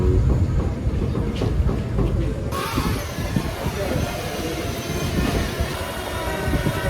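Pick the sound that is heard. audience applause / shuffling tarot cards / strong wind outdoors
strong wind outdoors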